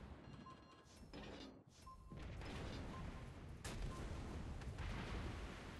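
Secondary guns of a warship fire in World of Warships Blitz, a series of muffled booms and thuds over a rumbling battle background, fairly faint.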